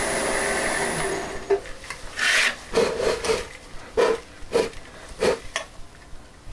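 A woodturning tool cuts a wooden lamp shade spinning on a lathe, giving a series of short rasping scrapes in an uneven rhythm over a steady motor hum, close and moderately loud.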